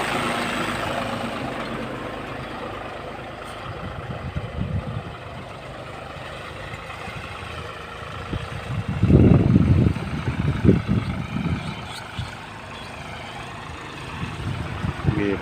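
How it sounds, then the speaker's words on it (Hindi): A tractor engine runs nearby on a farm, a steady low idling drone with a louder burst of rumbling midway, heard from a short distance. "ये पास में ट्रैक्टर भी चल रहा है"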